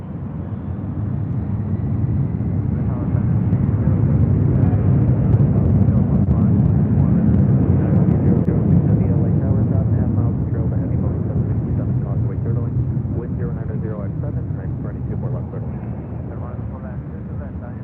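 A jet airliner roars overhead at LAX on its approach to runway 25 left, a loud sustained rumble that swells and slowly fades; someone talks over it.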